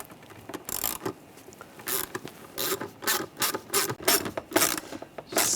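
A worm clamp on a water pump hose of a 2009-2013 BMW 328i xDrive 3.0L inline-six is tightened with a screwdriver or socket, giving a close series of quick ratcheting clicks in uneven bursts.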